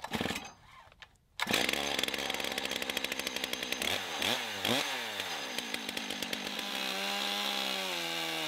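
A Logosol chainsaw mill cuts through a log with a loud, steady engine whine that starts abruptly after a quiet moment, then wavers in pitch as the saw bogs and recovers, running on continuously.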